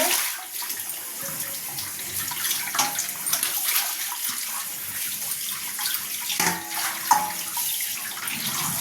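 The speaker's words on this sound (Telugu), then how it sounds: "మంచి నీళ్ళతో శుభ్రంగా ఒక రెండు మూడు సార్లు బాగా కడగాలండి అప్పుడే వాసన రాకుండా ఉంటుంది" Fish being washed by hand in water during fish curry preparation, with continuous splashing and running-water sloshing, moderately quiet and steady, no talking.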